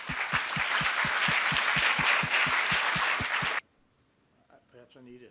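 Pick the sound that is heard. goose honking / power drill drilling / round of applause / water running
round of applause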